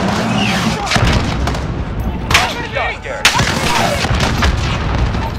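Air support cannon and artillery fire striking targets in Call of Duty: Modern Warfare (2019), heavy booming gunfire with several sharp blasts at about 2.3 and 3.3 seconds over a dense battle rumble, with radio voices talking throughout.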